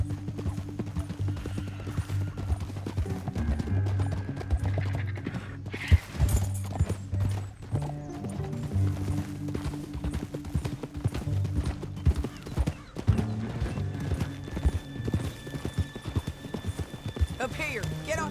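Horses in the video game Red Dead Redemption II gallop in a steady, close clip-clop of hooves that runs the whole time under music and occasional talk.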